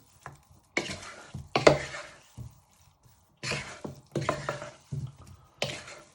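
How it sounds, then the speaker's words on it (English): Potatoes being stirred with spices and a drop of sunflower oil, giving close, intermittent bursts of wet scraping and shuffling in a bowl, with quiet gaps between strokes. "you want to give that a good stir in"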